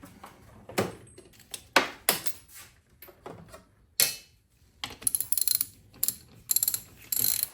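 A ratchet wrench with a half-inch socket loosening a transmission bolt on a Triumph Spitfire, quick close bursts of clicking with pauses between strokes, growing busier toward the end.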